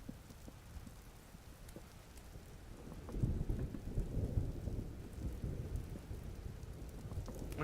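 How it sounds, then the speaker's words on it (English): Steady rain and rumbling thunder of a storm in the video game Vintage Story, a low wash of rainfall that swells louder partway through with a deep thunder roll, continuing without speech. "it doesn't sound like it's going to be that bad of a storm"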